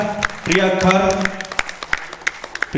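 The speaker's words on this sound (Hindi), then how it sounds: "उनके लिए भी तालियां।" Scattered claps from an audience at a Hindi drama festival come in sharp, uneven bursts under someone speaking, growing sparser toward the end.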